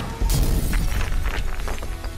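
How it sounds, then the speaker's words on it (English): A toy catapult smashes a rock during PAW Patrol toy play, a sharp, loud crash followed by a scattered rattle of shattering debris over about two seconds, with no talking. "I can use my catapult to make the crack bigger!"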